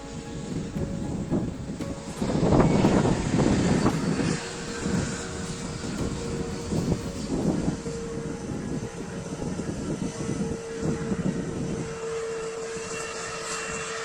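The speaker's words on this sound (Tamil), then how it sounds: "ஸோ உங்களுக்கு காட்டுறேன் பாருங்கள், விஸ்தாரா வருது." A Vistara passenger airliner taxiing at Coimbatore airport, heard as a steady, moderately loud jet engine whine and rumble with wind buffeting the microphone, swelling briefly early on and then holding a constant drone.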